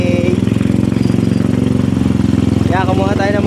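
A Rusi motorcycle engine idles nearby with a loud, rapid, even chugging pulse, while a voice talks over it near the end.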